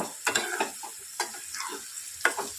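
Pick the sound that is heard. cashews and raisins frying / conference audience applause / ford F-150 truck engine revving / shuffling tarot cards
cashews and raisins frying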